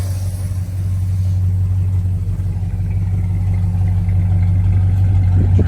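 A 1973 Plymouth Road Runner with regular exhaust manifolds and dual exhaust idles nearby, a steady deep low rumble with a slight swell toward the end and no talking.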